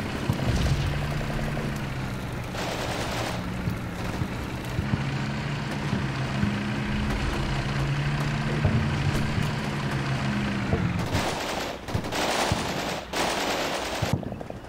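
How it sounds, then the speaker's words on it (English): BTR armored vehicle firing from a bridge in Combat Mission Shock Force 2, machine-gun bursts over a rumbling idling engine hum, then sharper louder bursts near the end. "I sent a BTR from B Company to shoot and scoot from the bridge"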